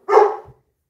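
A single dog barks once, close and fairly loud, at a delivery person waiting by the front door, followed by a short low growl-like tail and then silence.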